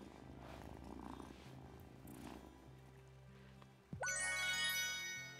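A cat purrs softly in the farming video game Wylde Flowers, a low continuous rumble under game music and ambience, followed by a sudden bright chime-like jingle near the end.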